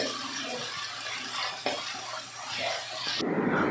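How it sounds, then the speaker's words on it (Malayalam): Onion and coconut paste sautéing in oil for a Kerala-style curry, a steady close sizzle and hiss running throughout, with a brief clatter midway and a muffled stir near the end. "അരപ്പിട്ട് നമ്മൾ വാട്ടിക്കൊണ്ടിരിക്കുകയാണ്"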